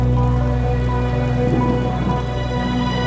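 Heavy rain pours down on race day at a running event, a loud, dense, continuous wash of drops with a steady tonal hum running underneath.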